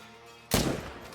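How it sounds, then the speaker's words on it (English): A single rifle shot cracks out sharply in the Call of the Wild hunting game, a rifle fitted with a red dot sight on a water buffalo hunt, followed by a short decaying echo after quiet ambience. "we're gonna throw a couple more shots off into there as well"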